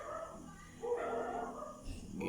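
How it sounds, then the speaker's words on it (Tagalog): A dog barks a few times in a quiet room during a computer reformat, faint and somewhat distant yips against a low background hum. "Maingay pa yung aso."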